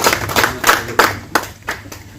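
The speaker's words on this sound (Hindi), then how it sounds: "आपकी तालियों की आवाज यूं ही गूंजती रहनी चाहिए।" Scattered clapping from a small audience at a journalists' organisation meeting in a Meerut college hall, uneven bursts of hand claps at irregular intervals rather than a full ovation.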